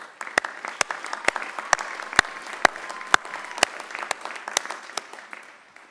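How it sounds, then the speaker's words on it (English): Scattered applause from a modest crowd at a college commencement, individual sharp claps clearly audible and fairly close, steady throughout without voices. "So let's give them a round of applause."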